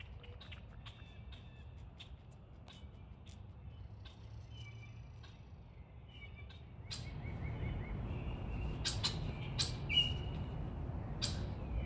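Birds chirp and tweet in the trees around a small farm, with scattered short calls at first, then busier, louder overlapping song over a faint background rumble.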